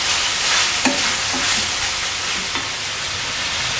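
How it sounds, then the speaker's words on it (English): Beef pan-frying for a Chinese beef stew: a steady, close broadband sizzle runs the whole time, with a few soft scrapes of stirring against the pan, no voices. "pan fry for a few minutes"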